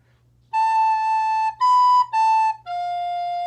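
Four slow, clean sustained recorder notes played softly, each held steadily with short breaks between them, the second a little higher and the last lower and longer.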